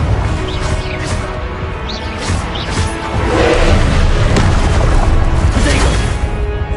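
Booming spell blasts and crashes from the Confringo fire spell in Hogwarts Legacy on PS5 rumble loudly over a dense game soundscape, with a voice talking across it.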